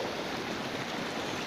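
Water carrying fresh cow dung and cow urine flows steadily toward a farm pond, a continuous close rushing wash of moderate loudness with no voices.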